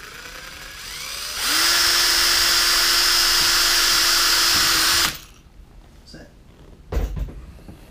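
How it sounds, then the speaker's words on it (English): A small power drill bores through plastic mounting holes on a part for a Tamiya MF01X Jimny RC crawler, with a steady, high whine lasting about four seconds between quiet handling noises and a sharp knock near the end. "I'll just quickly drill through."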